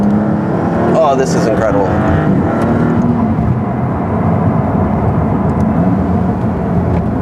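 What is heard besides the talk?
Maserati MC20 supercar driving around a turn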